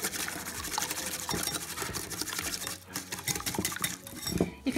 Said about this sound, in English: I just try and whisk it to force it together as much as I can before I pour it over the rabbit